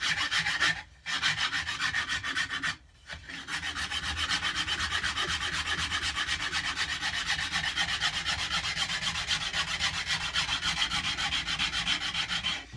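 A wooden cigar box guitar neck edge is sanded with steady, continuous rasping strokes up close, loud and even, broken by two brief pauses, with no talk.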